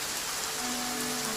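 Steady rain falls outdoors at London Zoo during a wet spell around the gorilla enclosure, a dense even patter on surfaces that holds close and constant with no voices.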